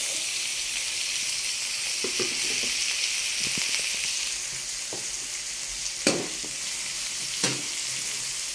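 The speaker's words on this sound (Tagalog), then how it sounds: "Haluin lang po natin ng bahagya ang ating kamatis para mag-ano doon sa ricado" Tomatoes and ginger sauté in a hot pan with a continuous close sizzle, and a spatula scrapes and clinks against the pan now and then while stirring.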